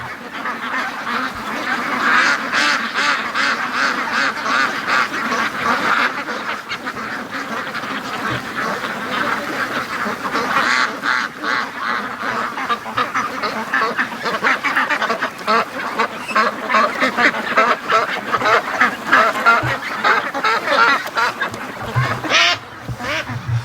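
Free-range ducks gather at a lake, quacking and honking almost nonstop in a dense, busy chorus that sounds fairly close and loud throughout, with many birds calling over one another.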